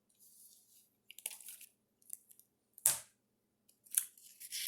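Scissors snip through a paper sewing pattern piece, several short quiet cuts with gaps between, close by and alone.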